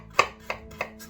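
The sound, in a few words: knife chopping ginger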